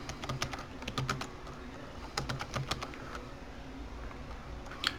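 Keys clatter on a computer keyboard as a business name is typed, quick irregular bursts of clicks spread over several seconds, close and clear against a quiet room.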